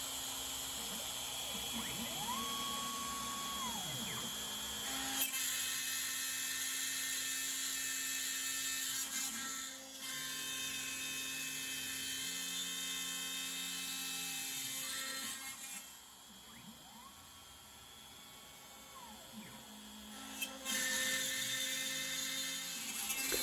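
A CNC router carves a Christmas wall decoration, giving a steady high-pitched spindle whine with stepper motor tones rising and falling as the bit tracks through the material, continuous and fairly close throughout.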